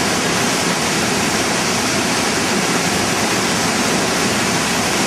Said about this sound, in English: Thinnest point of the Yangtze River, or the narrowest stretch of the Yangtze.